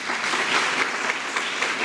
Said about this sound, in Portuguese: aplaudir bem forte a palavra do